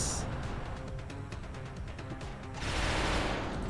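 Gunfire in the video game XCOM, a rapid burst of shots followed by a louder, sustained blast near the end, with no speech over it.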